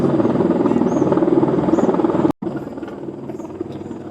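Helicopter flying overhead near a man-made forest boardwalk, a steady rhythmic rotor drone at moderate distance, briefly cut out then continuing, without talk.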